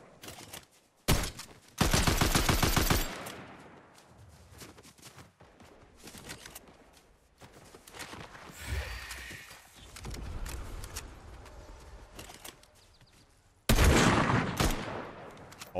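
Gunfire in a shooter video game: sharp single shots and a loud rapid burst of automatic fire early on, then scattered quieter shots and mechanical clicks, ending with another heavy burst; no voices.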